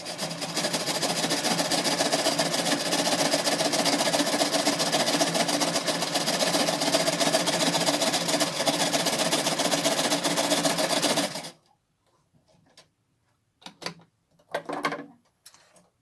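A sewing machine stitches the curved edge of a cotton face mask in a loud, steady whirring run that stops abruptly, leaving a few faint clicks and handling noises afterward.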